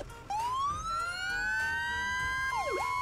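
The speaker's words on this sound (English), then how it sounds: "do the siren. Oh, the siren needs some help, but that's okay." A fire truck siren in the video game Fire Fighting Simulator wails steadily with a rising sweep and sustained tone, then drops into a quick yelp near the end, loud and close with no talking.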